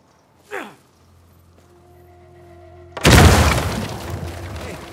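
A sharp dynamite blast in the video game Uncharted 4: A Thief's End, set in Scotland, erupts after a quiet stretch with a faint hum, followed by a loud, rumbling roar that slowly decays.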